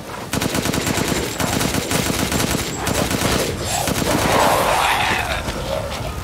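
Sustained rapid machine gun fire in the video game Resident Evil Village, a loud continuous burst of shots lasting several seconds with little pause.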